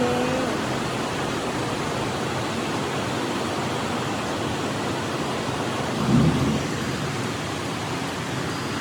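Heavy rain pours in a steady, dense hiss during a storm, with a brief low thunder rumble swelling faintly past the midpoint; no voices are heard.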